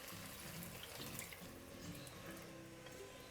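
Steady stream of water poured into a pan, continuous and close, with faint splashing throughout and no voices.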